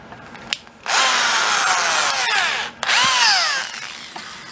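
A power drill with a larger bit chamfers a hole in new metal panel work on a 1962 split-window bus, two loud sustained whirring bursts with falling pitch, separated by a brief pause, no talk.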